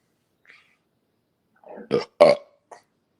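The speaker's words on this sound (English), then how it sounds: "I just burped up a crude oil burp." One person burps: a faint small gulp, then a pair of close, loud guttural eructations and a brief trailing croak, against near silence.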